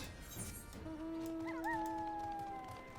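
A dog howls in Final Fantasy 14, a long rising and wavering tone that holds for about two seconds over quiet game ambience.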